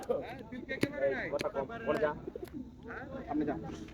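Racing pigeons coo in soft, rolling calls at a pigeon club on a tournament day, mixed with chatter from people talking nearby.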